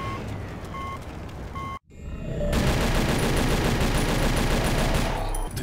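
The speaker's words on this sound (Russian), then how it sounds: "Стрельба!" Gunfire in the video game TimeShift: after a brief electronic beeping and a sudden cutout, sustained rapid automatic shooting bursts in loud and continuous for several seconds, with no voices.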